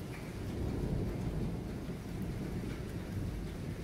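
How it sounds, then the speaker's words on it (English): Steady rain pours down in Rome in December with a low, rolling rumble of thunder underneath, soft and continuous with no voices. "Probably gonna thunder here in a second."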